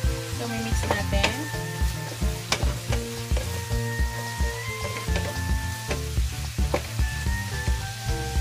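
Salmon sizzles in a hot pan while being stirred, a steady frying hiss with repeated utensil scrapes and clinks against the pan, close and continuous.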